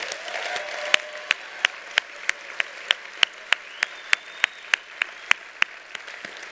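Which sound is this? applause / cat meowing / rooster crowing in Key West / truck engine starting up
applause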